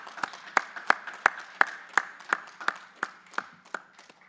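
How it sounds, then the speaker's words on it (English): Audience applause for students at a high school education celebration comes through as a run of distinct, evenly spaced claps, roughly three per second, fairly crisp and moderately loud. "So can we give all these students a round of applause?"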